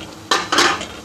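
A utensil scrapes and clanks twice against a pan as spices of turmeric, garlic powder, ginger powder, cumin and salt are stirred into fried keema, two quick close metallic strokes over a faint background.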